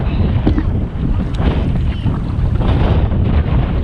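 Steady wind rushes over the water on a Boundary Waters canoe trip, a loud, continuous broadband roar with gusty swells and no pauses, no voices above it.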